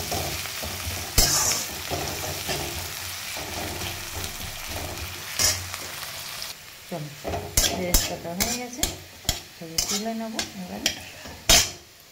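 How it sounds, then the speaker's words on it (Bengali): Onions frying in oil in a pan at the start of a biryani: a continuous sizzle under repeated clattering stirs and scrapes of a utensil against the pan, busier and more percussive in the second half. "ফার্স্টে কিছুটা পেঁয়াজ আমি ভেজে তুলে নিই"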